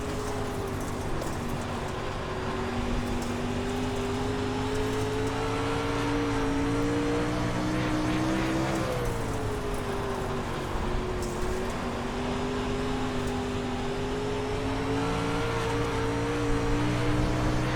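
Dirt late model race car engine in the iRacing game at Knoxville, a continuous loud drone with a steady, sustained engine note and a brief dip and recovery partway through, with no talking.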